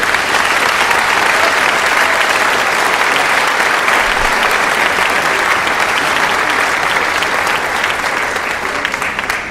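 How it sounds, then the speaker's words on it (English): Loud, dense audience applause at a middle school eighth-grade recognition ceremony, a continuous roar of many hands clapping at steady intensity from start to finish, with no talking. "Everyone, please give this group a round of applause for their outstanding commitment."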